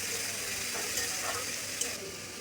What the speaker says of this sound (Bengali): প্রথমে কড়াইয়ে অল্প করে তেল দিয়ে দিচ্ছি, ফোড়নে দিয়ে দিব জিরা, কাঁচা লঙ্কা আর কেটে রাখা আলু হালকা ভেজে নিতে হবে।